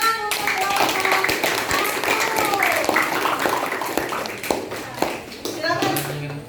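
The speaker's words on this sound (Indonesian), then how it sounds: "Oke, beri tepuk tangan untuk kelompok" A classroom group gets applause, with many hands clapping in quick irregular bursts that fade and pick up again, while voices chatter and children speak underneath.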